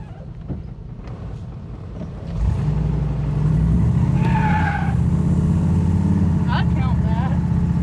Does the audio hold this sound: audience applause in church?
no